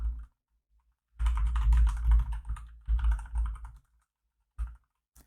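Typing on a computer keyboard to enter an Excel chart title: two bursts of rapid, soft key clicks close to the microphone, separated by short pauses, ending with a single keystroke.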